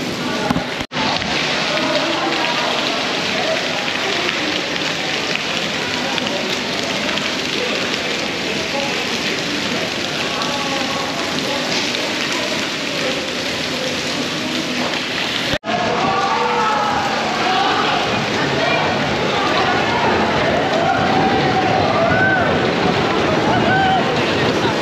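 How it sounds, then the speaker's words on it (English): Riding the nearly century-old Big Dipper wooden roller coaster at Blackpool Pleasure Beach, with its double chain lift, brings a continuous loud rushing roar and rattle of wind and track throughout, with faint voices mixed in. "So that is the Big Dipper here, and I'm going to go and ride this thing now"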